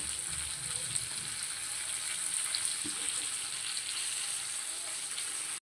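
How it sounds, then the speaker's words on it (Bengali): Eggplant slices fry in a pan of oil, giving a steady, even sizzle that runs without a break, close and moderately loud, with no talking over it. "দেখুন আস্তে আস্তে এগুলো ভেজে আসছে।"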